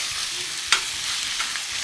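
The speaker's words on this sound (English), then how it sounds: "we're going to brown the chicken breast and the sausage until they're no longer pink" Steady sizzling from chicken breast and sausage browning in a pan, with a brief clatter of stirring partway through.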